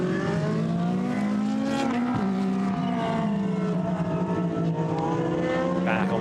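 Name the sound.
GT race car accelerating, Blancpain GT race at Paul Ricard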